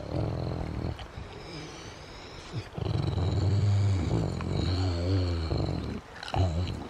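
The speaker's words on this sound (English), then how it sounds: "You hear him growling?" Low, rumbling dog growls come in uneven bursts inside a tent, close to the microphone, with brief pauses between them and a short huff near the end.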